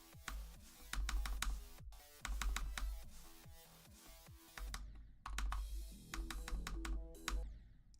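Rapid clacky typing on a Razer Huntsman V2 keyboard with red switches, dense bursts of keystrokes with short pauses between runs, close and steady with no talking.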